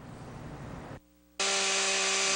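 A chainsaw carving wood: a rough, gritty cutting rasp, a brief drop to idle hum, then the engine revving hard into a loud, steady high whine, close by.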